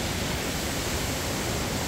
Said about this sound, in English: And then this creek just goes on down.